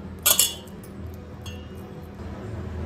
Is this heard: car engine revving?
no